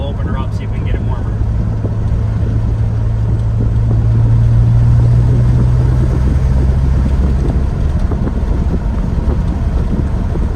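A 1995 Chevy 1500 pickup with a 4.3 engine and NV3500 manual gearbox cruising down a road, a steady low engine drone and road rumble with wind noise, plus someone talking over it.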